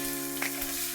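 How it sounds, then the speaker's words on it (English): Chopped onion sizzles gently in olive oil in a pan as a soup base, a short steady frying hiss beneath music with one faint brief stir. "we're going to go ahead and we're going to sweat these onions off a little bit"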